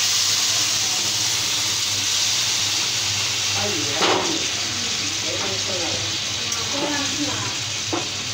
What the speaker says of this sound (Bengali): এবার গরম জল দিচ্ছি।